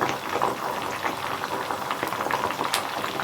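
Neem leaves cooking in hot oil for homemade hair oil, a continuous dense bubbling crackle with small pops throughout, close and steady with no voices.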